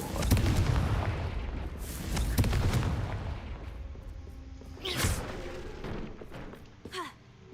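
Confringo fire spells blasting in Hogwarts Legacy, several booming, crackling bursts with whooshing tails, loudest in the opening seconds and then two sharper hits near the end over a low rumbling game background.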